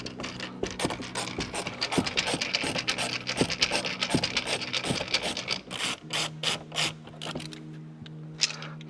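Unscrewing a glove box screw inside a Jaguar XE cabin, with repeated small scratchy ratcheting clicks from the screwdriver, close and fairly quiet, over a steady low hum.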